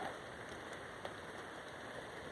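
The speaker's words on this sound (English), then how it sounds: "than hearing the rain." Steady rain falls on a walk, a soft continuous patter with faint scattered drops close by and no voices.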